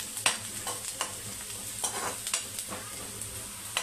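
Onions sautéed in a pan for a Maharashtrian sandge bhaji, a steady close sizzle of frying under repeated scraping stirs of a spatula, with no talking.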